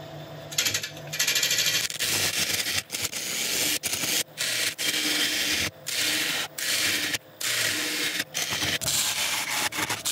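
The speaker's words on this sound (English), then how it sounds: "This little knob I've got sticking out, I'm just going to chisel that off before we turn it around." A chisel cuts away a knob on an oak woodturning blank with a steady, loud scraping rasp, broken by short repeated pauses as the tool is lifted and set again.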